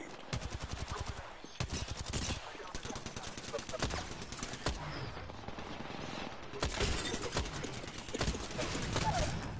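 Rapid automatic gunfire in Apex Legends, repeated bursts of sharp clattering shots in quick rhythmic strings with short pauses between, fairly close and loud, with faint game sounds underneath.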